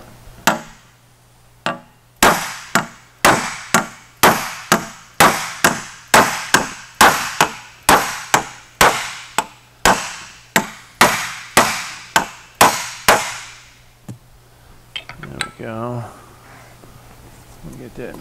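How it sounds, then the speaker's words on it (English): A hammer strikes a sheet-metal panel for a Porsche 550 dash, about twenty sharp ringing blows in an even, steady rhythm, close and loud, followed by a brief pause and a few softer taps with a voice briefly heard. "I still need to hammer this down just a little bit more."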